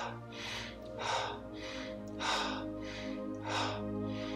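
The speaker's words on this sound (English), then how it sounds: "breathing along with it. So they're like this." Rhythmic breathing accompanies a qigong exercise, with about six forceful, evenly spaced breaths pulsing close up over a low steady background hum.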